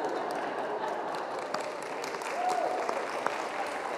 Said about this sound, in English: Russ, look around at the people standing up, clapping for you